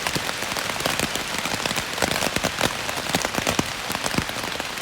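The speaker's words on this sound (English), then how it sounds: "The gentle rain on the tent is hypnotic." Gentle rain patters steadily on a tent, a dense, even hiss of drops with scattered louder taps close overhead.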